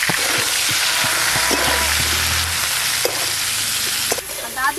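Potatoes and cauliflower, cut and washed, frying in oil in a pan: a steady, close, dense sizzle throughout, with a low rumble and a few soft clinks near the end.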